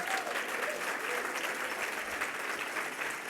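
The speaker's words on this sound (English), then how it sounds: "I would like to give a big round of applause for all the 15 brands that we just had." Sustained audience applause fills the room at an evening pitch competition event, a dense, steady round of clapping with faint crowd voices mixed in, holding at an even level throughout.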